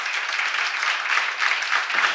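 A church congregation at a seminar claps together, a loud, close, continuous patter of many hands with a slight pulsing rhythm throughout.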